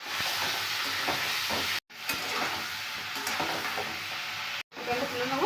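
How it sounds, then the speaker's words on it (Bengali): Chicken pieces fry in a wok, a loud continuous sizzle with stirring scrapes, broken by two brief silent gaps. "কড়াইয়ের মধ্যে আমি চিকেনগুলোকে একটু দিয়ে আমি আগে চিকেনগুলোকে একটু ভেজে নিই"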